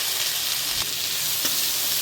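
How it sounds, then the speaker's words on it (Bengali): Vegetables sizzle steadily in a pan with a little oil, onion and garlic, a loud continuous hiss with a couple of brief stirring scrapes, no voices. "সবজিগুলো একটু ভাজা ভাজা করে নেব"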